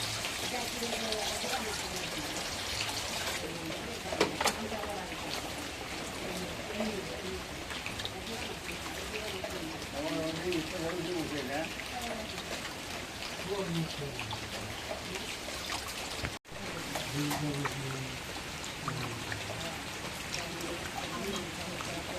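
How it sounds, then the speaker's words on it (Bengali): Cut meat being rinsed under running water, a steady trickle and splash that continues throughout with a brief drop near the end, while people talk over it. "এখন মাংসটা কোটা শেষ এখন মাংসটা ধুয়ে নেই"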